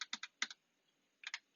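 Arrow keys on a computer keyboard tapped during Adobe Illustrator work: a quick run of three clicks, two more, then a pause and three final taps, close and crisp with no talking.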